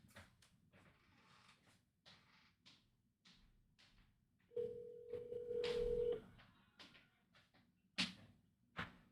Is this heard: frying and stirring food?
no